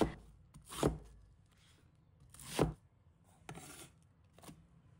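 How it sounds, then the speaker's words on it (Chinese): Half an onion is cut into small pieces with a knife on a board, giving a few separate, fairly quiet chops spaced about a second apart, with no talking. "半个洋葱，把它切成小块。"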